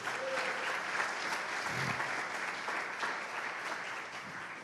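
A church congregation claps steadily and continuously during a sermon, a dense wash of hands that carries through the whole stretch without voices on top.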